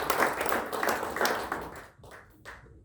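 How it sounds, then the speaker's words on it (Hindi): An audience claps in a burst of applause, dense at first and then thinning into a few scattered claps before fading out. "थैंक यू सर के लिए जोरदार ताली"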